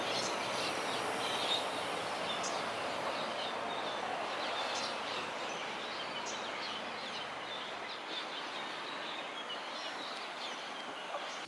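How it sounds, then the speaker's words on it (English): Birds call and chirp around Pang Sua Pond in Bukit Panjang, a steady chorus of bird sounds with scattered clucking notes, moderately faint and continuous over a soft outdoor background hiss. "can you hear the birds now?"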